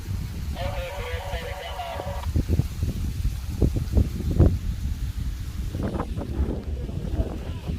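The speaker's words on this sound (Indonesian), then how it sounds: "Anginnya kencang bang, anginnya kencang." Strong wind at an airfield where light sport aircraft fly touch-and-go circuits rushes steadily across the microphone, with a brief tonal whine early on and people talking over the blustery noise.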